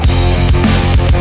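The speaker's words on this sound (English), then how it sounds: "I just threw individual notes in to trigger the drums here." Kontakt drum sample kit triggered note by note from MIDI, producing punchy kick and snare hits in quick succession, loud and close with no voices.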